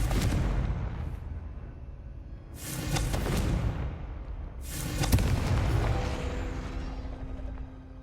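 Confringo blasting spell from the Hogwarts Legacy video game, sounding as a series of loud, deep booming blasts with broadband rumble, one near 2.5 seconds and a heavier one near 5 seconds, each trailing off over a continuous low game background.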